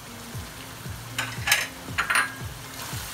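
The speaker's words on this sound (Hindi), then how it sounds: "अब हम इसको मसाले के साथ भूनते हैं" Spices frying in a pan for white chicken qorma, a steady sizzle under repeated scraping and stirring strokes, with a couple of louder metallic scrapes of the spoon, close up and without speech.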